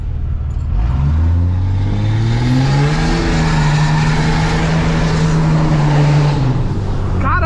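A 600 hp Dodge Ram pickup roars up from idle, its engine climbing steeply through the revs and then holding a loud, steady high-rev drone close by before easing off at the end.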